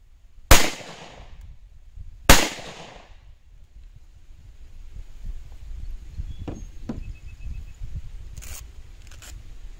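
Two sharp, loud gunshots from ammunition test firing ring out about two seconds apart, each with a short echoing tail, followed by quieter outdoor rumble and a few faint clicks.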